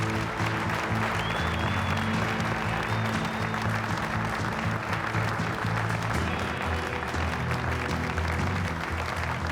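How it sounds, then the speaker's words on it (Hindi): On-stage applause greets a brand owner at an event in a Turkish drama, dense sustained clapping heard alongside background music, loud and even throughout without voices. "अब मैं कोज़ान ब्रांड के मालिक अली कोज़ान को तालियों की गूंज के साथ स्टेज पे दावत देता हूँ।"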